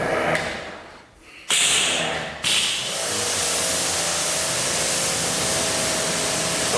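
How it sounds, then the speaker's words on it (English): Brake buster wheel cleaner is sprayed onto the wheels and tires of an E90 BMW M3 during a decontamination wash, producing close, loud spray hisses, first in short bursts and then one long continuous blast. "let's do a good old-fashioned brake buster."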